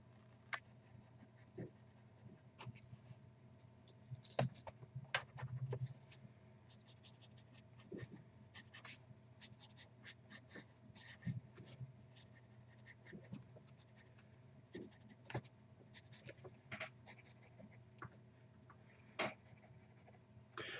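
Pencil scratches and strokes on paper while a cartoony skull is drawn, soft and close, in irregular bursts of short scribbles with quiet pauses.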